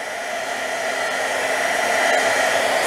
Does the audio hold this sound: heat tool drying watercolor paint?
yes